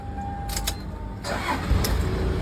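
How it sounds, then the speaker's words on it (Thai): A starter cranks briefly, then a Toyota Land Cruiser Prado KZJ95 diesel engine catches and settles into a low, rough idle, heard close up with a few clicks beforehand. "เดี๋ยวผมสตาร์ทให้ท่านผู้ชมดูกันดีกว่านะครับว่า เครื่องยนต์เขาจะเป็นยังไงนะฮะ"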